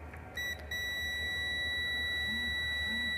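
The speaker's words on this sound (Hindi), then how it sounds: "ये सारी जगह बीप की आवाज़ आ रही है।" Sharp electronic continuity beeps from a multimeter probing the six-volt supply circuit of a motorcycle ECU for a short, one brief chirp then a steady sustained tone, close and loud over faint background hum.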